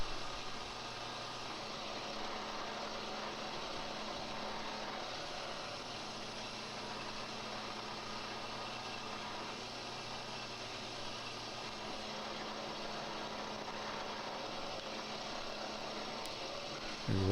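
Belt sander working a freshly cut face and a small offcut, giving a steady, continuous broadband whir at even loudness throughout, close to the microphone with no speech.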